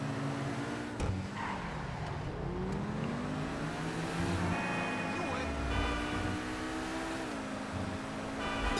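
A Lamborghini engine in GTA 5 hums and rises in pitch through revs and gear shifts, steady and moderately loud, with a person talking over it.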